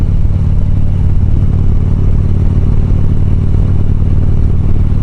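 A Harley-Davidson motorcycle is ridden, its engine a loud steady low rumble with clatter, continuous and close throughout, with no talk.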